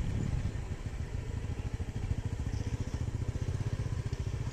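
A motorcycle engine idles loud and steady nearby, its low pulsing thrum chugging with a rapid, even rhythm throughout.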